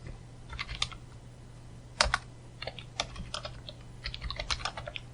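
A computer keyboard clatters with quick, irregular keystrokes while Python code is typed, close and clear, with a few heavier key hits in a quiet room.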